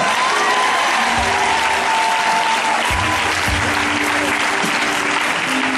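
A Catholic congregation in church claps together in a dense, sustained burst of applause. The sound stays loud and continuous throughout, with a few faint voices mixed into the crowd.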